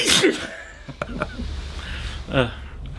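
A single sharp sneeze bursts out at the start aboard a cruise ship, followed by quiet breathy sounds and a short vocal noise near the end.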